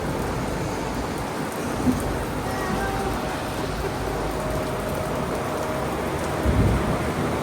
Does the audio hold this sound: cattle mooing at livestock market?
no